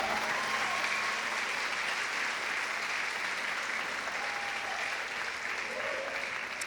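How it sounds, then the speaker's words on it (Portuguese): A church congregation at a Pentecostal service claps together in steady, dense applause that holds at an even level from start to finish. "Dê uma salva de palmas para esse casal."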